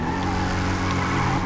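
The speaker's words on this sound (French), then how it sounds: "Donc elle glisse pas mal comme moto." A motorcycle in GTA 5 Online skids and slides with a steady, loud tyre and engine roar throughout the brief moment, no voices over it.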